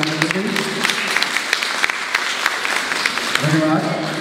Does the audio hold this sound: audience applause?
yes